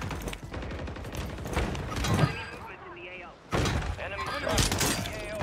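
Rapid, sharp gunfire bursts in Call of Duty Warzone on Rebirth Island come in clusters close by, mixed with clattering game effects and players talking over the shooting.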